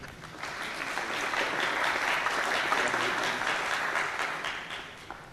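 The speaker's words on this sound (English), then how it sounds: "usually we get applause when we do a failover like this" Tech conference audience applauding after a SQL Server database failover demo, a swell of many hands clapping that builds, holds steady, then tapers off, fairly even and somewhat distant in a large hall.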